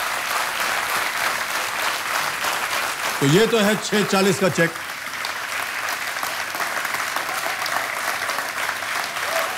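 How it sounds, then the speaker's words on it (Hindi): Steady studio audience applause on a TV quiz show, continuous clapping throughout with a voice speaking briefly over it partway through. "तो तालियां बजते रहे देवी और सज्जनों।"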